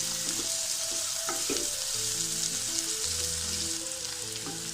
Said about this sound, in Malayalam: ഇതിലേക്ക് കരിവേപ്പിൻ്റെ ഇല ഇട്ട് കൊടുക്കുന്നുണ്ട്